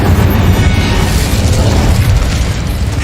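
An Incendio fire spell blasting in the Hogwarts Legacy video game, a loud dense whooshing roar of fire sustained for about three seconds.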